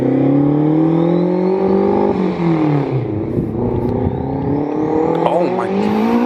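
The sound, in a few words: turbocharged AWD Honda Civic wagon accelerating, GT3076 turbo spooling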